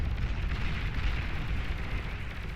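A Shiva unit blows up in the Beyond All Reason strategy game, a dense rumbling explosion with heavy low-end that sustains for a couple of seconds without talk.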